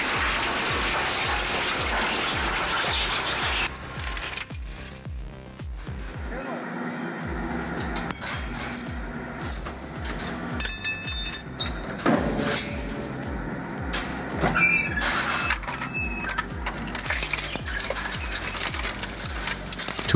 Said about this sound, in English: 40 drives drop in, and within moments, they're fragments.